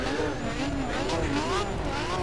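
A LaFerrari engine in the racing video game The Crew revs and wavers in pitch, loud and continuous, with someone talking over it throughout.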